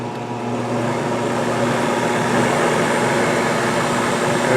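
A treadmill motor fitted to a Harbor Freight lathe spins at 1000 RPM with a smooth, steady, moderately quiet hum that swells slightly at the start and then holds even, with no talking.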